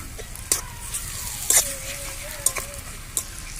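Ginger and garlic paste frying with onions in a pan for egg curry, a steady soft sizzle with a few sharp stirring clicks and scrapes; a faint tonal whine runs underneath.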